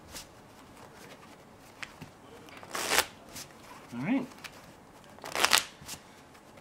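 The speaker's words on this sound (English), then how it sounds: "just give that deck a good shuffle for me" A deck of playing cards being shuffled by hand during a magic performance, two sharp riffling bursts close by, with a brief spoken word between them.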